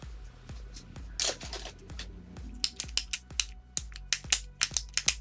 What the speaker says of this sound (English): I'm spinning this in class